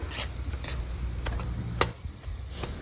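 Chayote is stirred in a sizzling pan of dinuguan, with a steady fry underneath and several sharp scrapes and clinks of a utensil against the pan at uneven intervals, close and clear.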